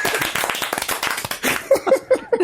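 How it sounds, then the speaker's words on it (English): A few hands clapping in a small group, brisk, close claps in a short uneven burst, with some chatter mixed in. "Should we clap for this?"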